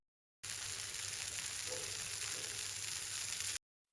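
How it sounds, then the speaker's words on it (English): Bacon sizzles in a frying pan with a steady, close crackle and hiss that lasts about three seconds, then cuts off. "The bacon is sizzling in the frying pan."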